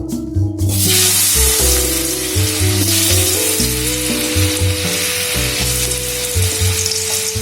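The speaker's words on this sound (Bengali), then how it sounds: "আমি এই তেলেই আলুগুলো একটু ভেজে নেব।" Potatoes frying in hot oil left over from frying snakehead fish, a loud, dense, continuous sizzle heard up close with shifting bubbling tones, no voices.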